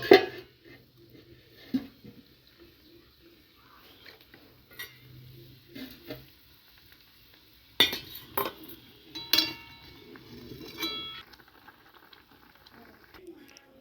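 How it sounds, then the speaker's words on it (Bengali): A utensil stirs tamarind-soured food in a pan in sparse clinks and scrapes with quiet gaps between them. A louder clatter of metal comes midway, with faint sizzling and soft background noise. "এবার আমরা নেড়ে নিচ্ছি"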